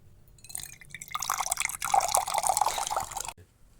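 Water poured into spiced masala sizzling in a cooking pan, a bubbling, hissing splash that builds for a couple of seconds and then stops abruptly.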